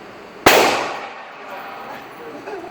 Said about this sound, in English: John, you have to shoot it out.